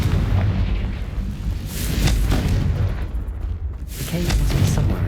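Confringo spell explosions in the game Hogwarts Legacy, a few booming blasts with rumbling tails and crackling bursts, mixed under ongoing game sound.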